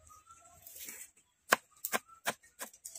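A knife chops fresh coriander leaves finely on a board for a Bengali mixed small-fish curry, giving five or six sharp, close, irregular strikes after a softer rustling start.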